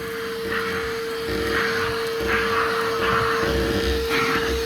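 A Bauer 20V cordless vacuum cleaner with a 5 amp hour battery runs steadily at close range, giving a continuous whirring motor drone with a constant high whine and slight rhythmic swells in the airflow.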